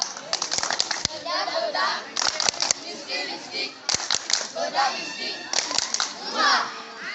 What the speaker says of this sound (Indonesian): Tepuk bengkok